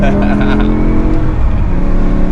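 A powerful BMW M5 E60 engine roars and revs loudly and continuously, close by, with a deep throaty drone.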